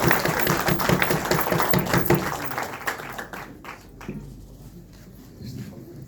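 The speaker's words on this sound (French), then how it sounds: "Vous pouvez l'applaudir." An audience claps for a professor after his thesis defence at the Université de Kinshasa, a dense burst of applause that is steady at first, then thins into scattered claps before a few louder ones return.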